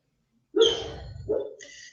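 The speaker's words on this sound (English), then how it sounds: "So I don't know if you can hear that. My dog's dreaming." A dog gives muffled, soft woofs and whimpery yips in two short bursts while dreaming in its sleep, close by.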